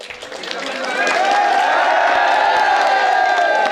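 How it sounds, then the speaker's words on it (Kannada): A crowd at a birthday celebration bursts into loud applause and cheering that swells within the first second and holds steady, dense clapping mixed with whoops. "ಒಂದು ಜೋರ ಚಪ್ಪಾಳೆ ಬರಲಿ."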